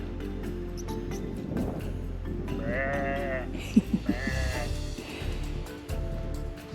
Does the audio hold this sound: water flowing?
no